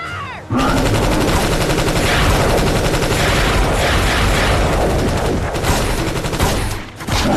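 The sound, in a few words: gunfire in a movie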